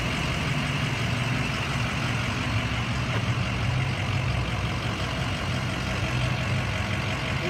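A 2005 Ford F550 diesel truck cruising along a frontage road, heard from inside as a steady, dense engine and road drone with a low rumble that stays constant and loud throughout.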